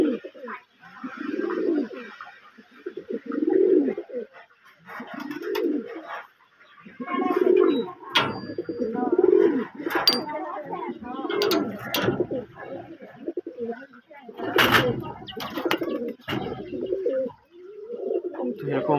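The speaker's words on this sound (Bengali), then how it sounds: "সব বিভিন্ন প্রজাতির কবুতর আছে।" Pigeons of several breeds, kept in a group for sale, coo in repeated soft rolling phrases, close and fairly loud, overlapping one another with no break.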